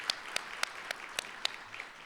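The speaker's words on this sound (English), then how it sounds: "Let's give them a round of applause." A small audience at an economic forecast event gives sparse, scattered applause, about seven distinct claps spread over two seconds, fairly faint against a quiet room.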